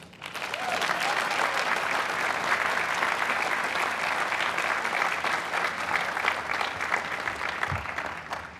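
Sustained audience applause fills a hall as a guest named Jensen is welcomed to the stage at an event honouring Carver Mead, loud and steady throughout with no talk over it.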